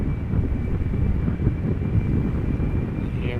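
A KLM Boeing 777-300ER departs Amsterdam Schiphol on a flight to Sao Paulo, a continuous, fairly loud engine roar with a thin high whine on top, roughened by wind on the microphone.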